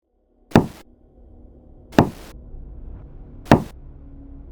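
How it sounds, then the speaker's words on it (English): Three sharp, deliberate knocks on a car window land about one and a half seconds apart. Each is close and loud, followed by a short hollow ring, against a quiet low hum. "a clear, deliberate knocking on my window"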